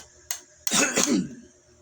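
A short hack followed by a harsher, longer cough, close by over a faint room background.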